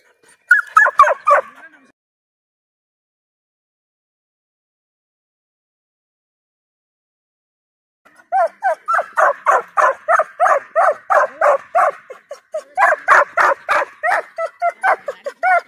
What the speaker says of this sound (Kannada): ಇಲ್ಲೊಂದು ನಾಯಿ ಐತಿ.